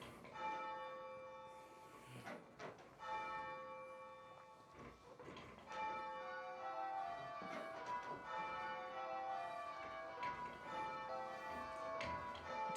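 Church bells rung by a team of bell ringers during practice night at St Mary the Virgin, Rotherhithe, a continuing sequence of overlapping bell strikes with ringing overtones, moderately distant and heard alone.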